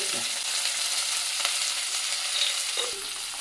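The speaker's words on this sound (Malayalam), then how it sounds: "എൻ്റെ കായ വറുത്തു വറുത്ത് നല്ലോണം വഴച്ചിടണം" Continuous crackling sizzle of plantain pieces frying in a pan with turmeric, with a few faint scrapes of stirring.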